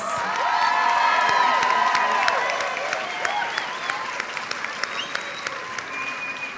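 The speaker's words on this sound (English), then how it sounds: "Let's give them a big round of applause." Graduation crowd at a community college commencement applauds and cheers for the faculty as they march out, loud clapping with whoops and shouts at first, thinning into scattered claps toward the end.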